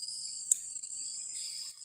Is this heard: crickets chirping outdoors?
yes